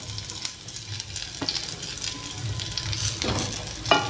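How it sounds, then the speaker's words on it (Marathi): Onion and two green chillies fry in a pan, a steady close sizzle with stirring and utensil scrapes, including a sharper clatter near the end, during cooking of a tomato garlic pulao. "थोडा फ्राय करून घेऊ। 2 हिरव्या मिरच्या घालूयात या आणि हा कांदा घालूयात।"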